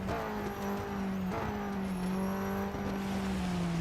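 A damaged race car engine in the Real Racing 3 video game drones steadily at a rough, strained pitch. The pitch shifts slightly as the car runs on, loud and continuous with no talk.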